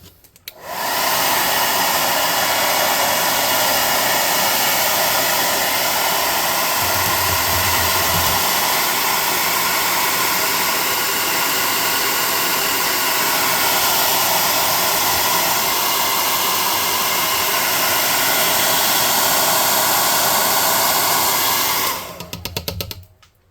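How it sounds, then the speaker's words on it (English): A handheld air gun blows steadily to dry paint on a model airship, a loud continuous whooshing hiss that switches on, holds for about twenty seconds and then cuts off. "I'm going to dry this with the air gun"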